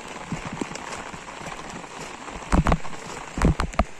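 Heavy morning rain falls on a forest, a steady wash of patter with louder bursts of drops or thuds near the end, no talk.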